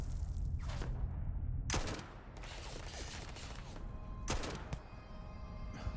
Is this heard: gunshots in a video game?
yes